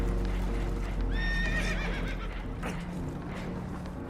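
In a video game, a frightened horse on a boat taking on water lets out one sharp, wavering whinny over a steady low rumble, with hooves clopping nearby.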